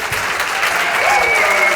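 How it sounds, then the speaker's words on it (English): A large debate audience gives a standing ovation, applauding loudly and continuously, a dense wash of clapping with a few voices rising within it. "You guys are getting a standing applause"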